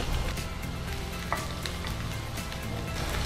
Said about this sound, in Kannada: ಈಗ ಈರುಳ್ಳಿ ಹಾಕ್ತಿದ್ರಾ?